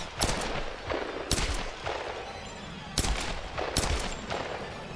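Lara's gun fires in Tomb Raider, several loud close shots in quick irregular succession over a noisy game backdrop, with no talking.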